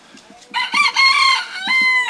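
A young rooster at the harbor in Limay, Bataan crows close and loud in strained, broken bursts, with soft clucking between and after the calls.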